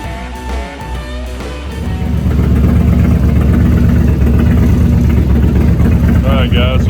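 Harley-Davidson Twin Cam engine in an "Electra Wide" bike fitted with a Screaming Eagle EFI Race Fueler, running with a steady, loud low rumble that swells after a couple of seconds; a voice speaks over the start.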